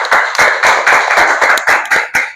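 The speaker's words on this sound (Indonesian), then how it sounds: "Tepuk tangan untuk kita semua." Applause from a class of pupils, a quick burst of hand claps with a clear rhythm and some unevenness, close by and loud, with no voices over it.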